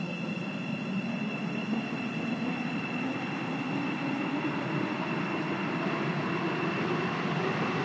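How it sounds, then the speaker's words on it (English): A passenger train in the Stepford County Railway video game rolls along at a steady pace, a continuous rumbling drone with a faint high whine held throughout, and no voices. "This train is for Stepford Victoria."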